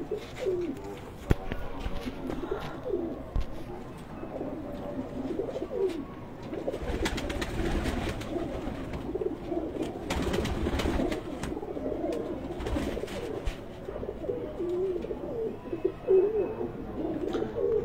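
Pigeons cooing on a rooftop, soft repeated low coos from several birds layered over faint background rustling, near and steady throughout.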